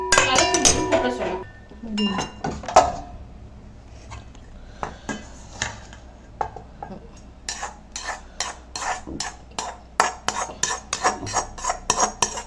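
Lemon rice mixed by hand in a metal basin, giving scraping stir sounds and repeated metallic clinks and taps that quicken into a steady run of close, crisp hits toward the end.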